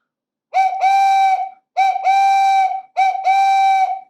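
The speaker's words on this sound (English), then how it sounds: "I think we need to blow our whistles" Three long toy whistles are blown one after another, each a bright, sustained tone lasting about a second, loud and close, with brief gaps between them.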